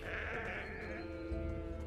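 Sheep bleat in the video game Gothic II, a drawn-out wavering bleat set against a steady low ambient drone at moderate volume.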